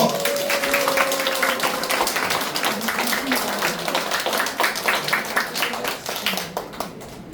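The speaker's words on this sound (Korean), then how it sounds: "박수 한번 주십시오." Audience applause at a political party district office visit in Daegu, a dense steady crowd clapping that gradually thins and fades, with a voice speaking briefly at the start.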